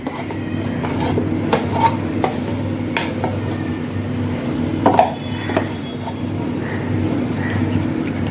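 Ground urad dal batter for vada is beaten by hand in a vessel, giving a steady, close, soft churning texture with occasional light clinks against the bowl.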